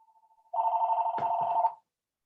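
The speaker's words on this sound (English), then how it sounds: "there's the phone is ringing" A telephone bell rings in a single sustained burst lasting just over a second, loud and close, cutting off sharply, with a quiet tone before it.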